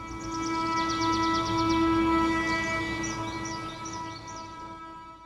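A train sits on the rails with a steady, loud tonal drone and low rumble throughout, light chirping and squeaks flickering above it, with no voices.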